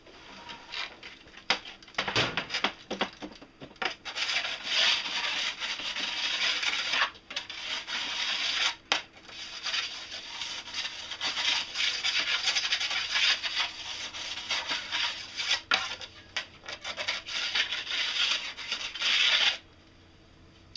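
A file scrapes along a snowboard's steel edge to take off burrs, giving repeated rasping strokes in bursts with brief pauses between them, close and fairly loud.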